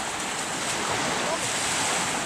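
Waves wash steadily along the Lake Superior shore, a continuous close roar of surf mixed with gusty wind buffeting the microphone.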